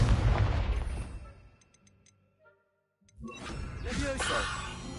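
A Confringo explosive spell goes off in Hogwarts Legacy with a loud burst that fades into near silence, followed by another blast and rumbling effects as a voice speaks.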